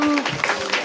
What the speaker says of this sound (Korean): 지금까지 수고해 주신 우리 소장님, 우리 박수로 우리 감사의 뜻 표현합니다.